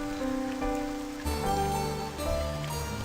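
Steady rain patters on surfaces in the game Ben Jordan, a soft continuous hiss at low level with a faint tonal background underneath and no one talking.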